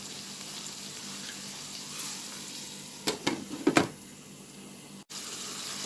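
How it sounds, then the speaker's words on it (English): Seasoning with sweet pepper frying in oil, heard as a soft, steady sizzle broken by a few sharp clattering bursts near the middle and a brief drop in sound toward the end, with no talking. "so it gets fried up in the oil"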